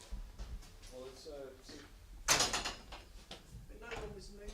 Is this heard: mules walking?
no